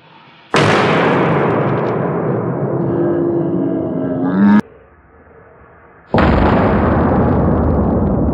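Firecrackers set off against an electric guitar: two sudden, very loud blasts several seconds apart, each followed by a sustained noisy roar, with a faint ringing tone fading out near the end of the first one.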